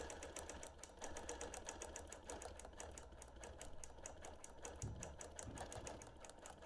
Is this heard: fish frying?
no